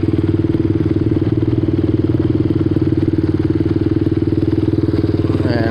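A custom-built motorcycle engine idles loud and close with a steady, rapid, even thumping pulse and no change in rhythm.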